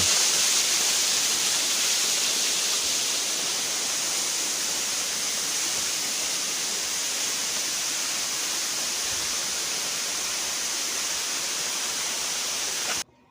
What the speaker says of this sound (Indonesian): Trekking menuju Cisadon, ada air terjun di pinggir jalan.